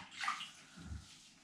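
Water runs from a shower head while a Russian Blue cat is bathed, a brief splashing rush with a low slosh near the end.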